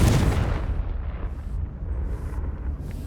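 Confringo blasting spell detonating in Hogwarts Legacy, a heavy low rumbling blast that swells at the start and then rolls on as a sustained, loud boom with a long decaying tail.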